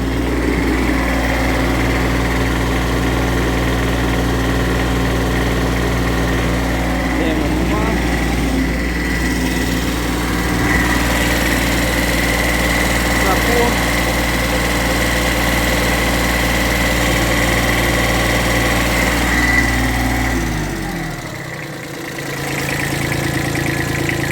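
A tractor engine holds steady at about 2500 rpm on the hand throttle, droning loudly and evenly with a strong low hum for most of the span. It dips briefly near the end before recovering.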